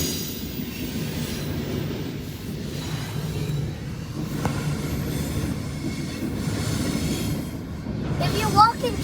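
A cargo train passes nearby with a steady, dense rumble of rolling rail cars and faint wheel squeal, continuous throughout, with a few voices talking faintly beneath it.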